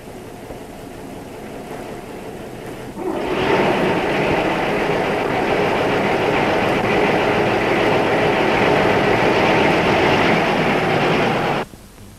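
A train of railway wagons carrying timber in 1960s rural forestry rolls past close by, a steady loud rumble with rattling wheels that starts abruptly and cuts off near the end.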